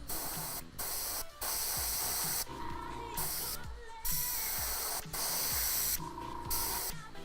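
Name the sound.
spray painting a Tyranid miniature, overspray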